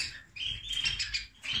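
A female canary in a breeding cage gives rapid, bright chirps and twittering calls in quick bursts, fairly close and clear over a low background rumble.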